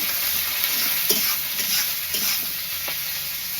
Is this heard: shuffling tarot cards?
no